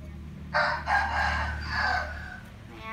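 A rooster crows at moderate distance, one drawn-out cock-a-doodle-doo in several rising and falling segments over a steady low background hum, with no talk over it.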